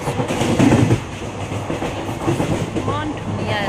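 A passenger train runs along the rails on a quiet journey through green countryside in the rain, its steady rumble and rhythmic clatter close and continuous throughout, louder at first, then easing slightly.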